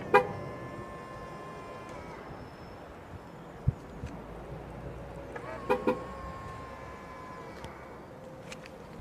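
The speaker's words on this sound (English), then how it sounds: "You can also have it making a chirp sound when you lock it or unlock" A Tesla Model 3 or Model Y lock chirps twice, a few seconds apart, each a short horn-like tone over quiet outdoor background noise.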